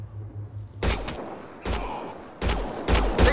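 Gunfire in the video game Mass Effect Andromeda: four loud, sharp bursts of shots, clearly separated, cutting through a low droning background, with the final bursts coming close together.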